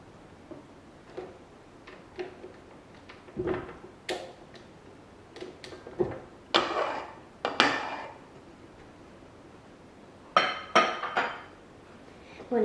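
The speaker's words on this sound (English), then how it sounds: "remove my paddle attachment" Paddle attachment being taken off a stand mixer while making mini cheesecakes: a scattered series of metallic clicks, clinks and knocks, close and separated by quiet gaps.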